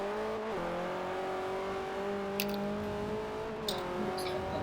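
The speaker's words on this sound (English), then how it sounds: "So I'm going in at about 100 miles an hour. E-brake all the way through and then let go." Car drifting at about 100 mph in a Forza racing game with the e-brake held through the corner, a steady engine drone with subtle pitch shifts and brief faint tire noise, alone without voices.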